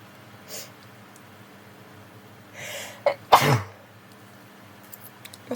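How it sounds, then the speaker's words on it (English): One loud, abrupt sneeze stands out from near-silence, led by a short intake of breath and followed by faint rustling. "I just sneeze"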